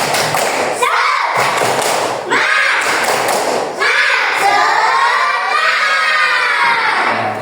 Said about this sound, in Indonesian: Coba, saya ingin tahu semangatnya. Tepuk semangat.